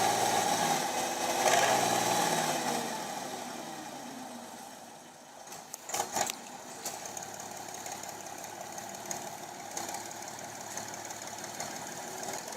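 A 50-kilowatt logging tractor's engine running at a steady idle on a rutted forest road, with a low rumble and a few sharper knocks near the middle.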